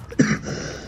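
A single short cough or throat-clearing burst from a man, close to the microphone, followed by a brief trailing rasp and quiet background.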